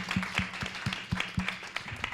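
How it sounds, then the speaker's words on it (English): A small audience claps after a youth pitch presentation, a sparse, uneven patter of individual hand claps at moderate level, fairly close, with a faint background hum. "All right, round of applause, please."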